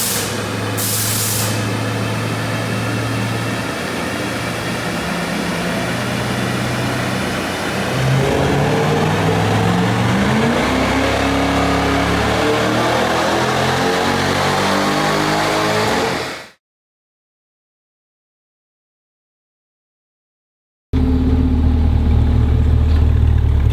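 A 2020 Chevrolet C8 Corvette, set up for quarter-mile runs on nitrous, roars loudly and close as its engine climbs through rising revs for about sixteen seconds, then cuts to silence before a deep idle rumble returns.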